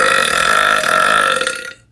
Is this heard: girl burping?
yes